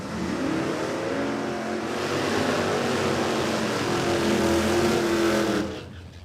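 Ford AU Falcon drag racing cars at Warwick Dragway in Australia, their engines droning loudly and steadily with rising harmonic tones as they accelerate, then cutting off abruptly near the end.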